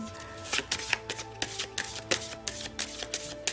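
A deck of tarot cards is shuffled and cut by hand, giving a steady series of crisp riffling and slapping sounds close to the microphone, with no voice over it.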